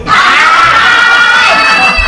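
Someone shouts loudly in a sustained, strained yell that fills the whole moment close by, with some echoing voices behind it.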